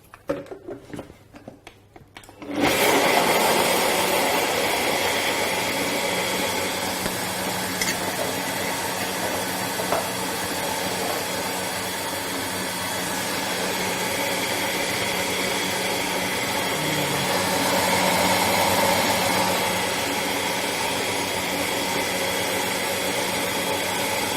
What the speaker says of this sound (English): All we need to do is blend.